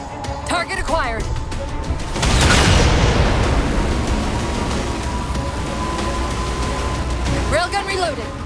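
A railgun fires in Halo 4 with a sharp, loud boom and a crackling wash that slowly decays, surrounded by game voices and chirping effects before and after.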